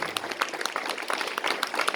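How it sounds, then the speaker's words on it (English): A room applauds the board candidates at the close of an evening candidates forum, with brisk clapping from a modest crowd, steady and fairly close for a couple of seconds. "Let me give one more round of applause for all the candidates who showed up tonight."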